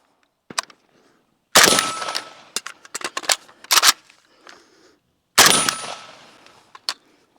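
AK47 rifle fired outdoors, with sharp loud cracks in uneven bursts and single shots, several rapid strings followed by decaying echoes, quiet gaps between groups, and no talking.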